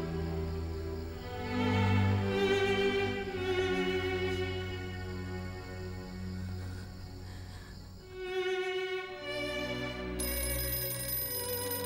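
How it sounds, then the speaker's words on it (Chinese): An old telephone rings on and on in a 1930s Shanghai-era drama, its bell tone sustained and fairly soft for over ten seconds, with no one talking over it. "云云啊，青青打电话来找你了"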